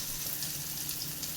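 Onions sauté in a pan with a soft, continuous sizzle and crackle, low in level and even throughout the brief stretch, with no talk.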